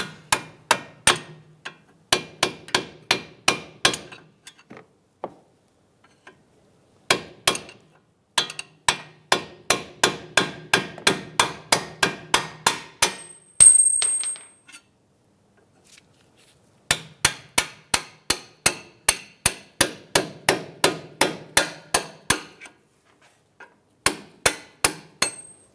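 Hammer blows driving the two strut bolts out of a 2007-2015 Mazda CX-9 steering knuckle during a suspension knuckle replacement: loud, close, sharp metallic strikes in rapid bursts of a dozen or more hits, separated by short pauses.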